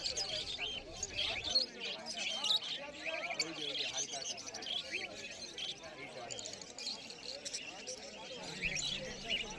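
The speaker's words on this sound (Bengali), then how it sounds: "লাভ বার্ডের মধ্যে পেয়ে যাবেন ফিশার লাভ বার্ড" Fischer's lovebirds chirp and twitter continuously at a busy pet market in Uluberia, with high, rapid, overlapping calls and faint background chatter.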